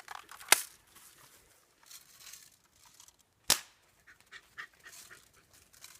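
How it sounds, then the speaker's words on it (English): A BB gun fires outdoors, two sharp isolated cracks about three seconds apart, near and distinct against a quiet background with faint rustling and panting between shots. "Is that a real gun or fake? It's real. It's a BB gun."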